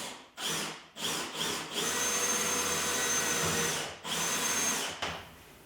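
A 1/8 inch drill bit bores a hole through metal in a shop after center punching, a loud steady whine broken by short pauses and restarts as the trigger is released and squeezed again.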